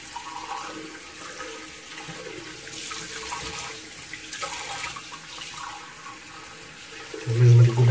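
Hot water runs from a tap into a mug for shaving lather, a soft, steady trickle that grows into a louder gush at the end, with faint background noise throughout.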